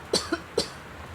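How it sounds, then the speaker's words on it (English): A woman gives two short coughs close to the microphone, the first with a quick follow-up catch and the second a single burst, then quiet room tone. "Excuse me, I have to cough."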